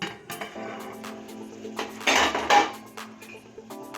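Metal lid clattering onto a pot of seeraga samba chicken dum biryani, with scattered clinks and knocks of cookware and a brief louder clatter midway, close and fairly quiet, no talk.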